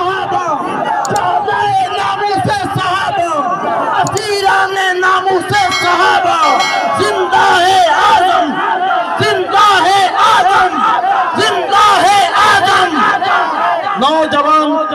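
A large crowd at an election campaign rally in Jhang roars chanted slogans in loud rhythmic call-and-response waves, many voices shouting together, close and sustained.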